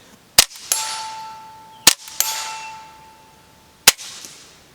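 Three sharp, loud cracks from a suppressed .22 rifle, spaced about a second and a half apart, each followed by a brief metallic ring and hiss, with no talking.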